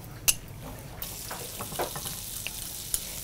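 Two tablespoons of butter sizzling in oil in a frying pan, a steady soft crackle with a few brief clinks from a utensil.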